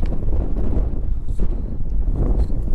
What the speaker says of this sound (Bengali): হেভি ধুলোর হাওয়া দিচ্ছে এখান থেকে বেরোতে হবে